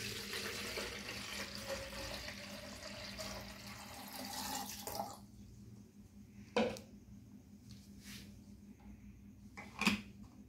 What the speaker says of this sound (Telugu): ఇప్పుడు దీంట్లో వాటర్ వేసి ఎలా స్ప్రే చేస్తుంది అనేది ఒకసారి చూద్దాం